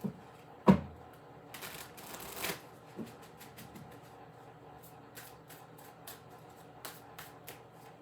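Tarot cards are shuffled in a few quick riffling bursts, followed by scattered soft taps and handling sounds at close range.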